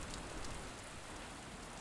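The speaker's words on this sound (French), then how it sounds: "Il sent les gouttes de pluie sur son crâne et l'eau qui remonte dans ses chaussettes." Rain falling steadily, a dense, even patter and hiss at moderate level with no other sounds, throughout.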